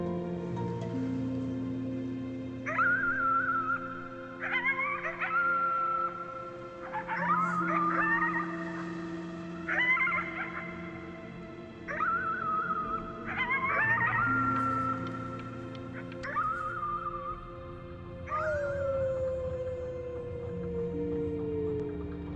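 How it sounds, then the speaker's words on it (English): Repeated mournful howls and wails in the game Before Your Eyes, rising and falling cries in a series of drawn-out calls over a sustained tonal musical background. "You howled at the moon, at the top of your lungs."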